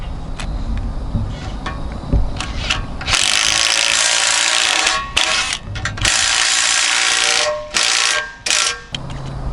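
Screws are driven with a power driver through a steel bracket washer plate into a 2x4, giving loud sustained whirring bursts with short pauses and ratcheting clicks between them, close to the microphone.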